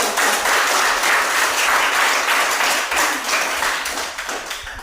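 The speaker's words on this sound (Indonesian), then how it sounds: "Oke, tepuk tangan bagus" A room of children clapping together at school after a classmate's talk, dense steady applause close by that holds strong for several seconds and then thins toward the end.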